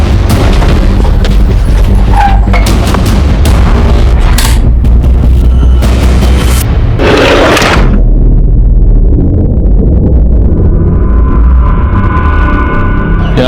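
A loud explosion blasts apart a room in a TV crime drama scene. A dense, roaring burst of crashes and debris is followed by a rumbling decay that fades into a low, steady hum.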